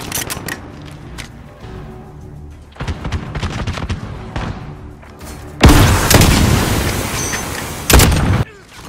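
Precision airstrike explosions from Call of Duty tear through a match, several heavy booms and rattling bursts rolling in sequence with a loud sustained blast surge near the end, close and forceful.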